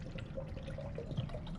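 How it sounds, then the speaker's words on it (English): Water poured into a container during a carbon dioxide solubility lab, a quiet continuous trickling and splashing heard close by with a faint room hum beneath. "we'll dump that water in there"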